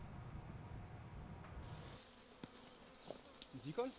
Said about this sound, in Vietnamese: Những người nuôi ong trên khắp nước Pháp đang vui mừng chờ đón một vụ thu hoạch mật bội thu